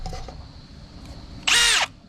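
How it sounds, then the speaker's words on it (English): A power drill whirs in one short, loud burst of about a third of a second during work on a Jeep XJ, rising abruptly out of quiet garage background and cutting off just as sharply. "that's a drill"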